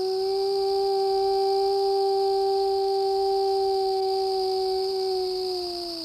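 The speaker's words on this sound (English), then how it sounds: "A wolf howl in one of Ontario's largest and most famous parks, Algonquin." A lone wolf in Algonquin Park, Ontario, gives a long, steady, clear howl that holds one pitch and sags slightly at the end, loud against a quiet outdoor night.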